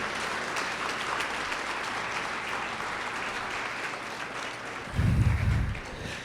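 A church congregation applauds steadily and fairly loudly throughout, with a swell of voices or cheering near the end.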